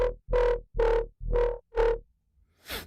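Five evenly spaced synth notes play in a plain, dry tone, each a short buzzy stab, followed by a brief noisy burst at the end.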